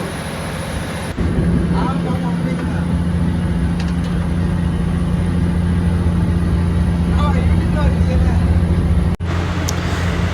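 Fishing trawler engine running at sea, a loud continuous low drone with steady hum, close by, with a voice talking over it.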